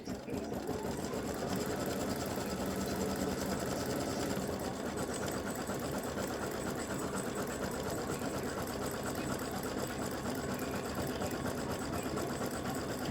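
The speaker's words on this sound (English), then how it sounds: "now I'm going to stitch the stripes" A machine embroiders red and green stripes on elf legs in a side seam split appliqué design, its needle running in a continuous fast, even chatter close by without pauses.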